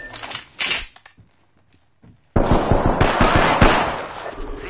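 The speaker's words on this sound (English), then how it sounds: "Shooting at me?" Rapid automatic gunfire from the Apex Legends video game on PS4 erupts in a dense burst of close, sharp shots after a short quiet stretch, following an earlier brief volley.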